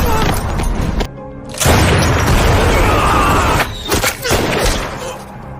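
An action film shootout with loud, heavy booms and bursts of gunfire-like blasts, close and dense, separated by a short sudden drop in sound before the explosions resume.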